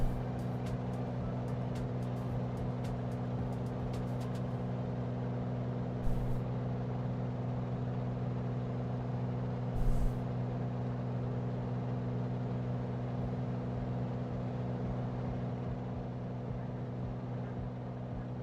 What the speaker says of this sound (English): Let's get the engine sounds a little bit